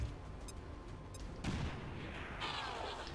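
A grenade detonates in XCOM 2 with a sharp blast midway, preceded by faint clicks and followed by a rushing, debris-filled rumble, fairly quiet overall.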